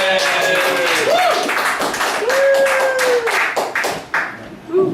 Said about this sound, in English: please give a nice warm round of applause for Theo Manhattan!